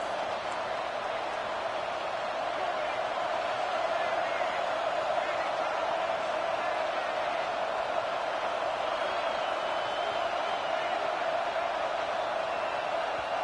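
Stadium crowd at a college football game between Vanderbilt and Oregon State, a loud, steady roar from the stands held for the whole stretch with no break, crowd noise from a large crowd at a distance.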